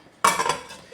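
A lid goes onto a cooking pot of potatoes simmering in hot water, a single sharp metallic clank followed by a short ringing rattle as it settles, close and alone.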